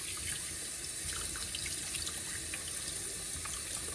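Water runs from a tap over a fountain pen piston rod being rinsed of dried ink, a steady splashing hiss into the sink that continues unbroken, with no talk.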